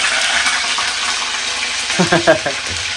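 Garlic and curry leaves crackle in hot oil with mustard seeds and fenugreek, a close, constant sizzle that swells with a few bursts of spattering near the end.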